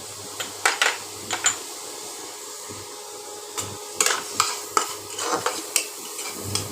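Chopped onion, tomato and chopped chili being stirred in a pan with onion, ginger and garlic pastes, with no oil, for a chicken makhani gravy: irregular metal scrapes and clinks over a soft sizzle and a low steady hum.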